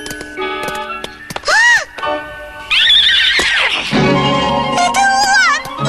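A cartoon unicorn gives a bright, wavering whinny, heard twice among playful music and ticking sound effects, loud and close.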